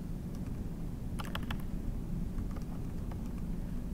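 Soft clicks of a computer keyboard tapping in irregular short bursts, faint and close against a constant low background hum.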